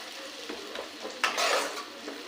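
Chopped onion frying in hot oil in a pan for a chicken curry, a steady close sizzle with scraping stirs and a louder burst of crackling partway through, no talking.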